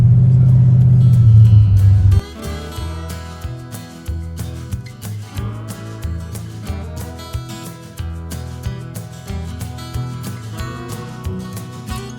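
An M35 Deuce and a Half military truck cruising in fourth gear at about 2,000 RPM, heard from a following vehicle: a loud low drone at first, then a steady rhythmic engine rumble.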